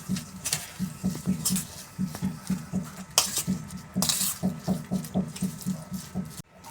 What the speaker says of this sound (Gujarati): હવે આપણે કોથમીર નાખીશું અને બધું મિક્સ કરીશું.